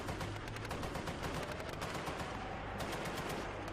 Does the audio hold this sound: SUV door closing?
no